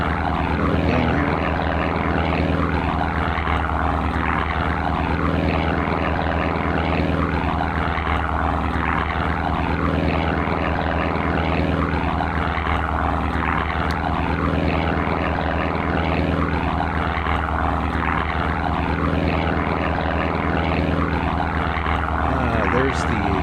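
Propeller aircraft engine in a World War II combat video game, a loud steady droning hum with a cyclic wavering pulse that holds unbroken for the whole stretch.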